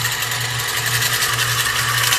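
Short whirring burst of a blender mixing mayonnaise ingredients with a quarter teaspoon of salt, a steady mechanical buzz with a faint pulsing hum underneath, close up.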